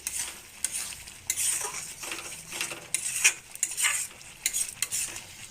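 Taro leaf bhorta being stirred in a pan with a metal utensil: repeated scraping and clinking strokes over a soft sizzle, fairly close and moderately quiet, with no talking.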